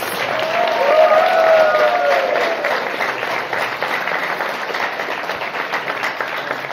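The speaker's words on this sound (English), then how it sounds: "let's give class 998 one more round of applause," An audience at a guide dog graduation ceremony claps in a sustained, dense round of applause that swells early and then holds steady, with faint voices mixed in.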